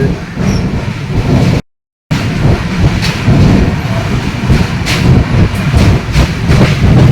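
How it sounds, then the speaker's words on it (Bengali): A passenger train runs over the bridge across the Ganges at Varanasi, with a steady loud rumble and rattle of the carriages, rhythmic clacks over the track joints, and a brief gap of silence partway through. "গঙ্গার ওপর ব্রিজ বেরোচ্ছে পার হচ্ছে আমরা এখন আমাদের ট্রেন এখন গঙ্গার ওপর দিয়ে"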